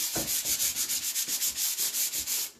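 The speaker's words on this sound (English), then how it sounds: "So I will take a super fine grit sanding sponge." Rhythmic rubbing of a super fine grit sanding sponge over a dried pastel-painted surface, quick back-and-forth strokes, close and steady, with no voices.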